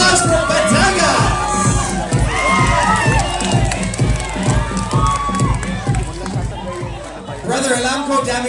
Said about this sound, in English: Round of applause for Batangas!